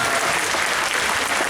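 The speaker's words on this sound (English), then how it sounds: "Y'all better clap for that." Audience at the Superhero Comic Con in San Antonio breaking into loud, dense applause that fills the whole moment, steady and close with no pauses.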